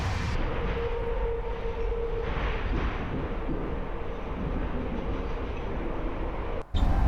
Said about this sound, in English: This is our train 1, but we'll also take a smaller train, which is the toy train